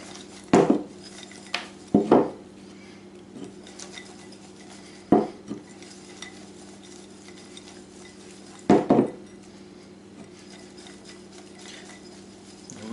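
Sliced onions are tossed with a teaspoon of salt in a bowl, giving a few sharp clinks and scrapes of utensil against bowl in short bursts, separated by quiet pauses, with no voices.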